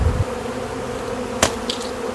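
Honeybees from an opened, queenless spring colony hum in a soft, steady drone, with a sharp knock or clack partway through and a few louder buzzes passing close by.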